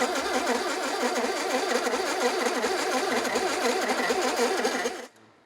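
A homemade racer's engine is fired up and runs loud and close with a buzzy, pulsing drone for about five seconds, then cuts out abruptly.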